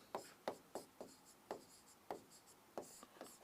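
A pen scratching out a heading on a board or paper during a Hindi math lesson on divisibility rules, a faint, close run of short strokes at an uneven, steady pace, with no talking.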